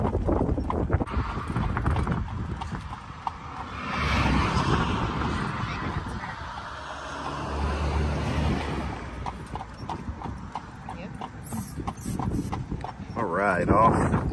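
A horse and buggy clip-clops along a quiet country road near Shipshewana, Indiana, with steady hoofbeats close by and people talking over them throughout.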